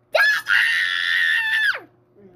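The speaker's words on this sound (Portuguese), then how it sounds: "é uma gritaria que meus ouvidos não aguentam" A young boy lets out one loud, sustained scream lasting over a second, sharp onset and falling off at the end, close and alone.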